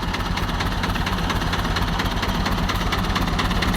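An old Ford farm tractor's diesel engine runs at a steady idle, close and loud, with a rapid even knocking throb and a noisy balancer, and no voices over it.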